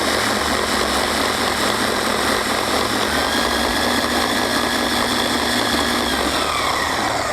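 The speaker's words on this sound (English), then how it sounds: "I'm going to lift it up, run it this for a few seconds." A FLEX 3401 dual action polisher runs lifted off the surface to sling cleaning solution from its pad, making a loud, steady droning whir that holds constant throughout without speech.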